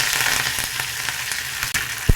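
Curry leaves hit hot oil already crackling with mustard seeds and urad dal for a tomato rasam tempering, producing a loud close sizzle with sharp pops and one heavy thud near the end, no voices.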